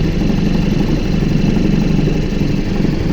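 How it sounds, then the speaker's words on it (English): Mayland 14 boat's engine running astern, a steady low mechanical drone with constant vibration, close and continuous throughout with no talking. "I'll put my engine in astern."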